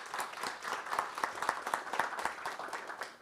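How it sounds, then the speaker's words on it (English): Applause at a school board meeting honoring a teacher, a modest, faint group clapping with distinct individual claps in an uneven rhythm for a few seconds. "we will applaud her"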